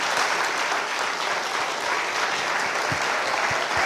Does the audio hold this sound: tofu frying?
no